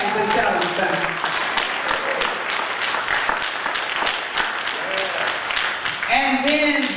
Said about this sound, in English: clap your hands and tell them something